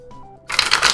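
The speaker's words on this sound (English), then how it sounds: "while I'm shuffling" Tarot cards are shuffled by hand: after a brief quiet moment with a soft tonal murmur, a burst of crisp riffling and flapping card noise follows, close and fairly loud.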